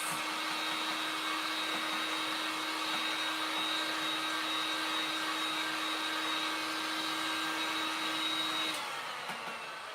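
An electric dryer blowing on a painted craft figure gives a steady whirring hum for about nine seconds and then switches off, close and with no talk.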